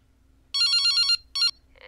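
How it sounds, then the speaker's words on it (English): A telephone in the horror video game Sunny Day Jack ringing with two bright electronic trills, one long and one short, followed by a brief softer tone, over a quiet low background. "Stop ringing the phone."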